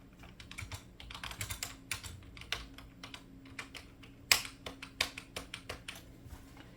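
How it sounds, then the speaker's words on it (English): Computer keyboard typing on an HP RP5700 running Windows Vista, a steady run of close, crisp keystrokes with one sharper clack, faint over a low electrical hum and with no speech. "I'll just type in this."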